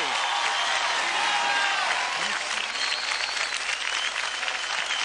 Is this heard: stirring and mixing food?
no